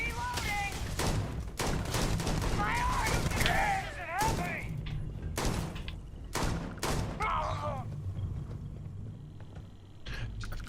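Rapid hip-fire bursts from a gun in the video game Starfield, dense crackling shots and thumps in uneven volleys, with someone talking over much of the gunfire.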